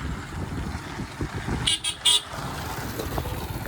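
On a dark road at night a car passes with a low rolling hum, and a few short horn toots sound in quick succession midway.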